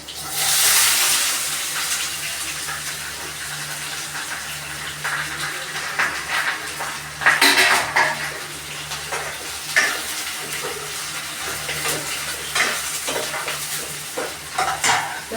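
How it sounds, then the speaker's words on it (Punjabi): Onions going into very hot oil in a pan with ginger, giving a steady sizzle with bursts of stirring and scraping that runs through the whole stretch. A low background hum sits under it, and nobody speaks. "ਤੇਲ ਕਾਫੀ ਗਰਮ ਸੀਗਾ ਤੇ ਬਹੁਤ ਜਲਦੀ ਜਿਹੜਾ ਬਣ ਜੇਗਾ ਲਾਲ ਹੋ ਜਾਏਗਾ ਤੇ ਨਾਲ ਹੀ ਆਪਾਂ ਇਹਦੇ ਵਿੱਚ ਪਾ ਦੇਵਾਂਗੇ ਪਿਆਜ਼"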